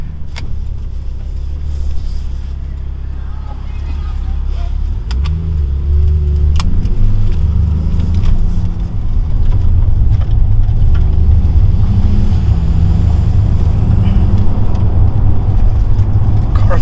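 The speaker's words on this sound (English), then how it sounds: "Let's take it for a quick spin and see how this thing handles on the road." Porsche 911 Targa 4S accelerating on the road, heard from inside as a steady, loud low engine and road rumble that builds slightly over the run, with faint clicks and rattles in the cabin.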